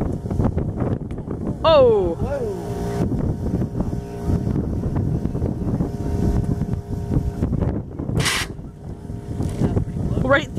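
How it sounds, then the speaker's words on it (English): Wind buffets a microphone outdoors among farm fields and corn, a broad rumbling roar running through the whole stretch, with a voice calling out and brief tonal whines over it. "Sorry if the wind picked up again"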